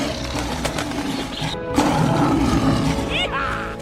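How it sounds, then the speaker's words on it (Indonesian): Young animated lion cubs Kiara and Kofu let out playful roars from an animated lion film, layered over music and voices with birdlike chirps rising near the end; the roaring swells loud and sustained in the latter half. "terbesitlah ide untuk menyuruh Kiara dan Kofu mengaum"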